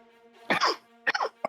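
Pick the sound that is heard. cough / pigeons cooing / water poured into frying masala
cough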